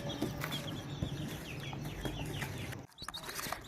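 Chickens cluck steadily at close range, with overlapping calls and a short lull near the end before the clucking picks up again; the birds are young chicks being sent off to Faisalabad.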